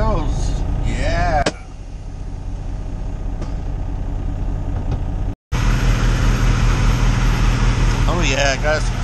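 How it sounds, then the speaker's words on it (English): A loud truck idles at a TA truck stop with a steady, rumbling low drone throughout, heard close by, while a person talks over it and briefly cuts out partway through. "Got this loud truck over here idling for some reason."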